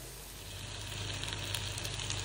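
Stuffed brinjal dropped into a pan of onions sizzling in oil, a continuous soft crackling fry that swells slightly, faint and close, with no voices.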